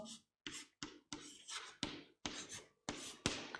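Chalk or marker writing on a board during a maths class, a run of about eight short scratchy strokes in quick uneven rhythm, close and clear with no speech.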